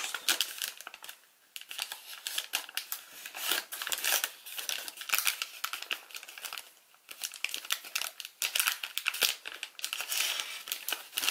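Paper is creased and folded into a Satoshi Kamiya Ancient Dragon origami model, giving close, dense bursts of crinkling and crackling with brief quiet pauses between handling movements, and no voices.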